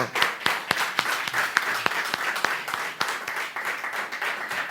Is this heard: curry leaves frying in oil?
no